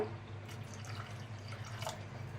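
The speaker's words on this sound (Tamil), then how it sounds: "கொஞ்சமாக தண்ணி சேர்த்துக்கலாம் இதில்." Water is poured a little at a time into a Nagercoil-style fish curry mixture, giving a soft, close trickling and dripping over a low steady background hum.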